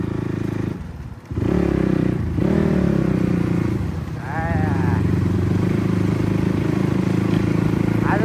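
A CX250R motorcycle engine runs with a loud, steady low drone and a brief dip in revs, while a voice speaks faintly over it and light clattering is heard.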